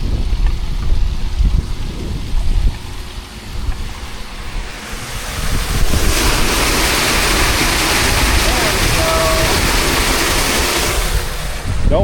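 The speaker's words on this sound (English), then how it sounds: "I gotta open this here little head gate, or else we won't have any water in where the water gets sucked in." Water rushes steadily through an opened irrigation head gate on a farm during planting season, a broad constant wash that swells louder about halfway through and continues to the end.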